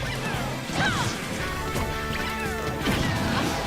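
A forward smash attack lands in Super Smash Bros. Ultimate with a sharp crashing impact, set among busy game effects and a steady background din.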